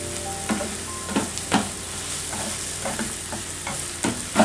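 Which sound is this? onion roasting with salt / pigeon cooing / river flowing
onion roasting with salt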